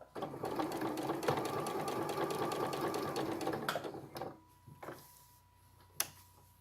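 A sewing machine runs a fast, even stitching rhythm for about four seconds, close and clear, then stops, followed by a few isolated mechanical clicks and taps.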